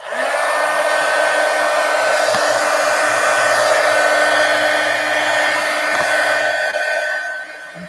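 Hair dryer blowing steadily on an ink journal, a loud continuous whirring roar for about seven seconds that eases off at the end.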